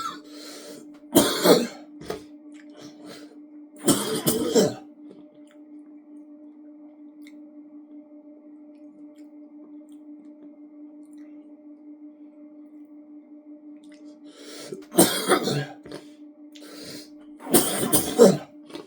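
Someone coughs and clears their throat in short harsh bursts, two near the start and two more after a long quiet gap, close and loud over a faint steady hum.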